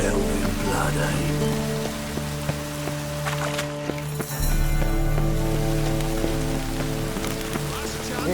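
Steady rain falls across a city in The Witcher 3, a dense continuous hiss of drops on surfaces with low tonal music layered beneath, its level lifting slightly after the midpoint.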